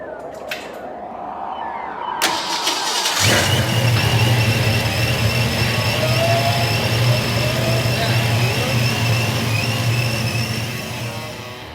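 A Volkswagen Fox-based Retro Fox car engine cranks with a whirring starter, catches and settles into a steady, rough idle with a faint belt squeal, loud and close for the rest of the clip.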